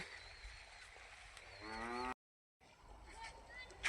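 A single low moo from buffalo rises briefly, fairly faint against outdoor background noise, followed by a short silence.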